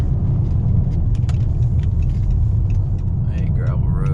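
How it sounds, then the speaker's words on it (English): A Chrysler 300 rolls along a gravel road, its tyres crunching over stones under a loud, continuous low rumble of road and engine noise, with a voice talking over it. "So we're gonna hit this gravel road."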